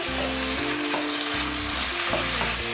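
Jackfruit with paprika, cumin and cayenne chilli stirred in a frying pan, giving a loud, continuous close sizzle with soft scraping over a steady background of music, no talking.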